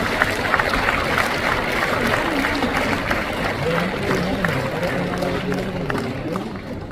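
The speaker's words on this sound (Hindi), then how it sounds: "जोरदार तालियां उनका सम्मान हो रहा है सुभाष पारधी जी का" Loud, sustained applause from a large crowd honouring a guest from Nagpur at a Constitution Day ceremony at Vigyan Bhawan, Delhi, with voices mixed into the dense clapping throughout.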